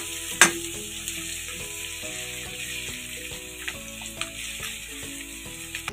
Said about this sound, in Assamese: পিঁয়াজখিনি মই ৰঙচুৱা হোৱালৈকে ভাজি থাকিম